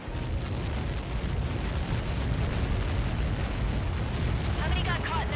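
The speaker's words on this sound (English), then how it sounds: "How many got caught in that explosion?" Explosion in the video game Ace Combat 7: a dense, continuous roaring rumble of a massive blast that stays loud and unbroken for several seconds.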